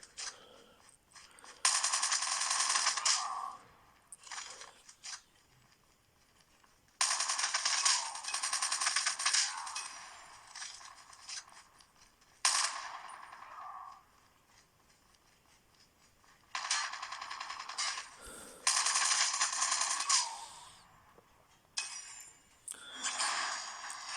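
Gunfire from Call of Duty Mobile played on a Redmi 8A phone, coming in loud sustained bursts separated by short quiet gaps.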